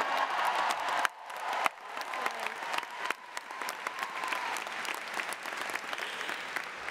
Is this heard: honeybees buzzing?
no